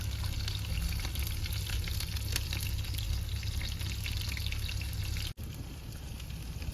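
Onions fry in hot oil for potato kurma, giving a steady, even sizzle that stays close and constant, with a single brief dropout near the end and no talking.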